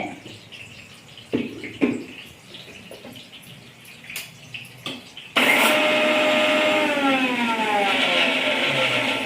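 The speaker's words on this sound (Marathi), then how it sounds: "खोबर कोरडं असल्यामुळे प्रथम बारीक करून घेणे" Dry coconut ground in a kitchen blender: after a few taps and handling knocks, the motor kicks in loudly and runs as a steady, whining grind to the end.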